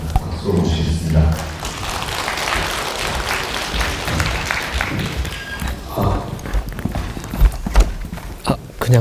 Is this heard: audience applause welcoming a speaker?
yes